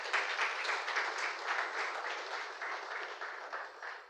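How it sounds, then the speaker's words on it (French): Applause from mourners at a funeral, a steady crowd of many hands clapping together at moderate distance, holding an even level for several seconds before beginning to fade. "Est-ce qu'on peut applaudir ces mots de la famille?"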